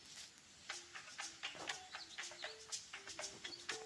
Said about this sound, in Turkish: kuşlar uçuyor işte